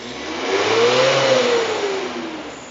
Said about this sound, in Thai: เราจะให้เจ้าของรถเทสควันดำก่อนนะครับอ้าวเร่งเลยครับ